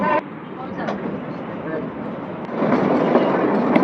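The Kalka-Shimla toy train rolling along its narrow-gauge line near Shimla station, a steady rumble and rattle of the carriages heard from inside, growing louder in the last second or so.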